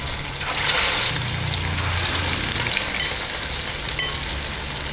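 Fish pieces fry in hot oil over a low flame, a steady close sizzle and bubbling hiss running throughout with occasional small pops.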